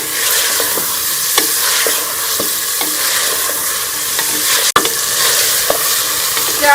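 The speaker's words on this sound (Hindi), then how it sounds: "लहसुन अदरक के पेस्ट के साथ इसको 4 से 5 मिनट बीफ को अच्छी तरह से भून लेंगे।" Beef pieces frying with garlic ginger paste sizzle steadily in a pan, punctuated by repeated scraping stir strokes and one sharp clank of the utensil.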